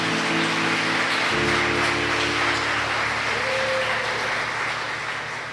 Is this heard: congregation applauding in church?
yes